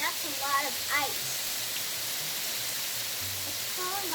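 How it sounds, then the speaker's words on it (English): Hail in Danville, California, pelts a car as a steady, dense hiss of falling ice, with a few bird chirps over it. "Hail in Danville, California. Wow, that's a lot of ice."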